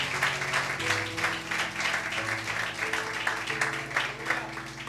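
A church congregation applauds through a Sunday morning service in a steady wash of clapping, with sustained music tones and some voices underneath.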